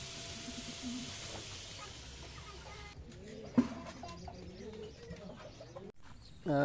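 Racing pigeons at a loft coo softly in a rural setting, low murmuring calls over steady background noise, with a brief sharp knock midway and a louder burst near the end.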